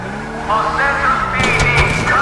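Engine whine and tire screech rise in a steady, loud stretch as a car slides in the video game GTA V, with a few sharp knocks near the end.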